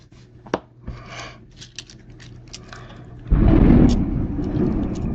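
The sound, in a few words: nearby thunder during thunderstorm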